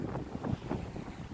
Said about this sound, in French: Alors je suis désolé pour le vent